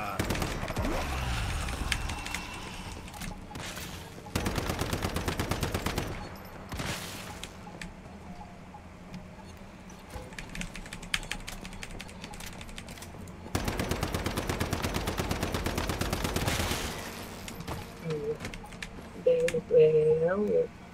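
Automatic gunfire in the survival shooter Once Human, heard as two long, loud rapid bursts of shots with quieter gaps and scattered single cracks between them.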